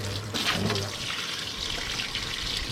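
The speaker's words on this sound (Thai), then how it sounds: "แต่ก็ล้างออกกันดีกว่าล้างล้าง" Running water from a tap splashes steadily while rinsing a child's eyes clean, a continuous close hiss with a brief louder burst near the start and no talking.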